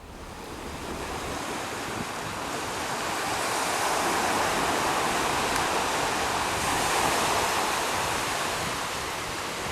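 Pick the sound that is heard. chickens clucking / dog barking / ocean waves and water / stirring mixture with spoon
ocean waves and water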